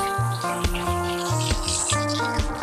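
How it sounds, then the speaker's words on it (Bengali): Amla (Indian gooseberries) being washed in water in a sink, a short burst of running, splashing water with faint clinks, no talking. "আমি প্রথমে আমার আমলকিগুলো সুন্দর করে ধুয়ে নিচ্ছি।"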